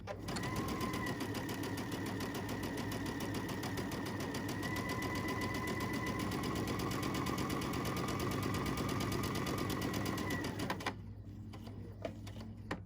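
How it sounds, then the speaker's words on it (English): A sewing machine runs a long elongated straight stitch along the top edge of fabric for gathering, a fast steady mechanical whir with rapid needle ticking that continues for about eleven seconds, then stops abruptly. "Let's stitch this elongated straight stitch all the way down the top edge of our fabric."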